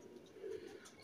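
Soft, low cooing of pigeons, brief and somewhat faint against a quiet background.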